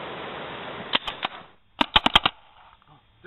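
Halo gunfire cracks out in short bursts of sharp shots: three spaced shots, a pause, then a quick cluster of five close, loud reports before fading to quiet.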